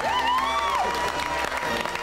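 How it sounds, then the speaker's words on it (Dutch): Studio audience applauding and cheering in a Dutch television studio, a thick continuous wash of clapping with a rising whoop or whistle near the start, loud and sustained. "Dames en heren, geef ze maar een applaus."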